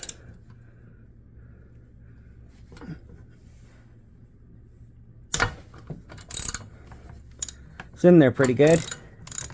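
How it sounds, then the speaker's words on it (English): Socket wrench ratcheting out a stopper bolt on a Suzuki Burgman scooter, quiet at first, then a burst of loud close clicking and grinding ratchet strokes, with a brief spoken remark in between. "let's get our socket wrench on there and we'll get it out"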